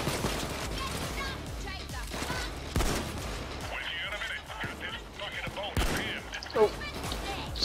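Sniper gunfire in the video game PayDay 2, sharp shots cracking out at intervals over a dense, chaotic mix of game effects, with a voice talking throughout.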